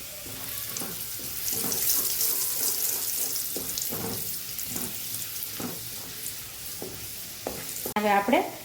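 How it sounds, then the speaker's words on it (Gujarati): Garlic cloves sauté in oil in a pan for Kathiyawadi palak, giving a soft steady sizzle with rhythmic stirring scrapes, plus a sharper clatter near the end. "સેજ આનો બ્રાઉન કલર આવે લસણની કળીઓનો ત્યાં સુધી આપણે એને લસણની કળીઓને સાતળવાની છે।"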